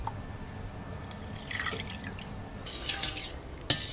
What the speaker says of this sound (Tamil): தேவையான அளவு தண்ணி விட்டுக்கலாம்